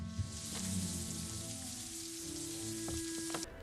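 Steady rain on the castle in an Indiana Jones film scene, a constant hiss with low rumbling beneath and faint tonal score tones, fairly quiet throughout and ending abruptly.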